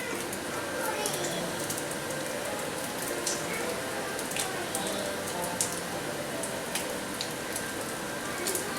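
Bacon frying in a pan, a dense crackling sizzle with scattered sharp pops running steadily and fairly faint throughout, with no talk.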